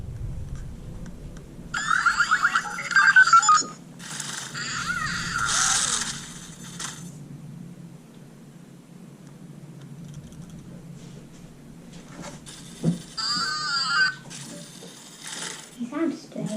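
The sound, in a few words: Spinmaster Boxer robot toy making sounds through repaired speaker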